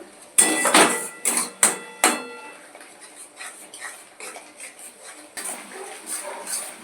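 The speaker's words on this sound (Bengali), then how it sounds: "খুব ভালো করে মশলাটাকে নেড়ে চেড়ে কষিয়ে নিতে হবে" A spoon clanks and scrapes against a pot as spice paste with a little added water is stirred and fried for a bhetki fish-bone curry; sharp metallic knocks at first, then softer irregular scraping.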